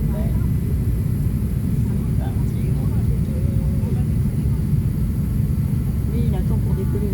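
An Emirates airliner on the takeoff runway at Charles de Gaulle airport, heard from inside as a loud, steady engine roar throughout, with people talking over it.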